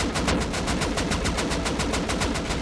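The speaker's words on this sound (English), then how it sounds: "they're actually firing at the defenders from the main base" Rapid automatic rifle fire during a snowy base raid in the game Rust, a loud sustained burst of evenly spaced shots rattling on without pause.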